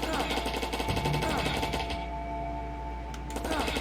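Rapid bursts of plasma rifle fire from a primary weapon in a video game, a fast mechanical rattle that thins out midway and then picks up again.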